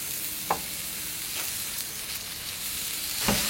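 Cevapcici sausages sizzle on a hot plancha in a soft, constant hiss, broken by a few faint scrapes and taps from the utensil.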